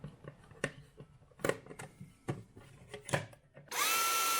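A power drill drives screws into a tight spot on an outdoor fireplace build, first several short clicking and knocking bursts from handling, then a loud steady motor whir at the end, close and with no talk.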